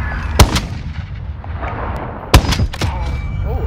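Sniper rifle shots in a Call of Duty Modern Warfare match: two loud, sharp cracks a couple of seconds apart, each followed by a quick mechanical action, over a constant low battle rumble.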